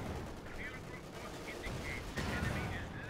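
Gunfire and rocket barrages in the Company of Heroes 2 real-time strategy game, rapid overlapping shots and dull impacts forming a steady, dense battle din with a heavier hit near the end.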